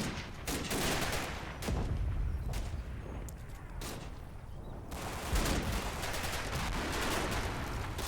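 Machine gun fire rattles across a Combat Mission: Battle for Normandy battlefield in dense, overlapping bursts mixed with distant booms, a continuous mid-distance fusillade with no talking.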